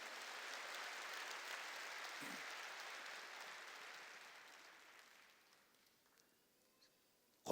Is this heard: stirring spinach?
no